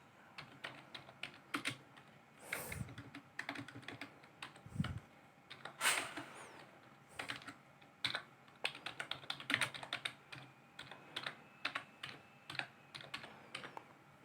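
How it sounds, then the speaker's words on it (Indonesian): Rapid, steady typing on a computer keyboard while configuring Windows Server 2003, close and crisp, with irregular clusters of keystrokes and short pauses, no voices. "Kita ketikkan teknik informatika"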